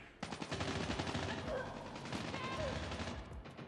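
Dense automatic gunfire in a Call of Duty match, a rapid continuous rattle of shots lasting the whole stretch, loud and close, with in-game sounds layered over it.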